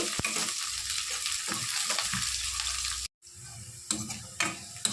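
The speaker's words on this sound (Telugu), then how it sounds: "ఎర్రగడ్డలు, కరివేపాకు దోరగా వేయించుకోవాలి." Sliced onions and curry leaves sizzle steadily in a pan for a mango fish curry, a close, continuous crackling hiss with occasional stirring scrapes and a brief dropout midway.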